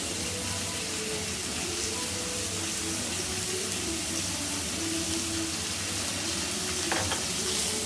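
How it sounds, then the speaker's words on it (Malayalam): Onion, green chili, ginger and garlic sautéing in a pan for egg burji, with a soft, even sizzle and steamy hiss running steadily throughout and faint stirring beneath it. "ഇപ്പോൾ സവാളയും പച്ചമുളകും ഇഞ്ചിയും വെളുത്തുള്ളിയും എല്ലാം വഴറ്റി വന്നിട്ടുണ്ട്."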